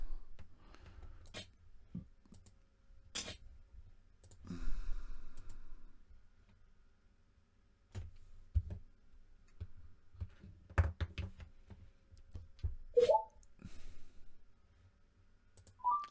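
Typing on a computer keyboard during an online poker session: sparse, isolated key clicks and taps spread across a quiet room, with a few small knocks and no speech.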